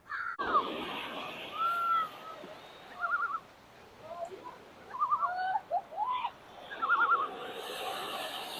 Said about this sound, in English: There's a lot of cool birds down here. You probably hear them.